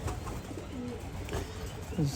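Racing pigeons in a loft coo softly and steadily, a close, continuous murmur of several birds with a brief louder call near the end.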